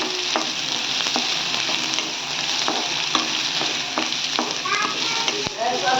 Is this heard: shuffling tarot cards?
no